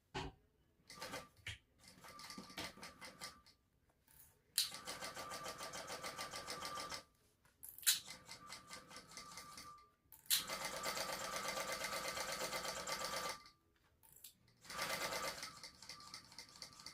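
A sewing machine runs in several rapid stitching bursts of a few seconds each, separated by short pauses, as it sews the top seam of a crossbody bag; close and clear with no talking.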